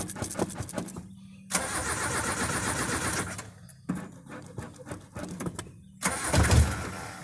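An old carburetted engine that is hard to start when cold cranks and fires after the gas is pumped, with repeated loud bursts of cranking and running separated by brief pauses.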